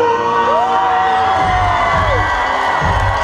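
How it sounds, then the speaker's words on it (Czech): A loud crowd cheers and whoops for a young racer from the Ferrero team as he is introduced, with a sustained whistle-like cry rising over dense, continuous cheering and a few low thumps. "obrovský potlesk pro tohoto úžasného mladého začínajícího jezdce"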